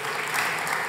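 Audience applause at an event honouring Anna Magnani, with steady dense clapping filling the whole short moment, close and even throughout.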